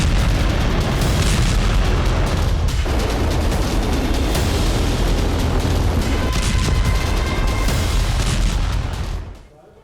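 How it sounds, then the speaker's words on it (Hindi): Loud, continuous rumbling blasts and booming from Russian cruise and Kinzhal missile strikes in Ukraine, with dense crackling and impacts throughout before cutting off near the end. "क्रूज और किंजल मिसाइलों से भी विस्फोट किया जा रहा है।"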